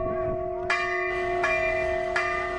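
Metal temple bells in Uttarakhand ring out loud and clear, three bright strikes spaced about a second apart over a steady sustained ringing tone.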